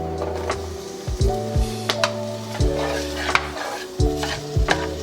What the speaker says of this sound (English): we're gonna add some diced yellow onions to our pan